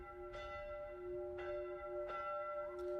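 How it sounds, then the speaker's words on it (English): Chapel bells ring softly in a visual novel game, several distinct strikes spaced about a second apart over sustained ringing tones, faint and distant over a low background hum. "I heard this sound before, from chapel belfries."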